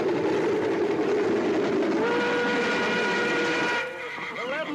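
A steam-era train rolls into a station with a steady loud rumble of wheels and rail noise, a sustained whistle tone rising over it before the sound drops away near the end.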